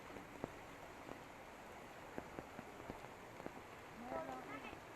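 Rain patters near Patahara waterfall in Keonjhar, a faint steady wash with scattered sharp drips and taps, while a soft voice murmurs faintly toward the end.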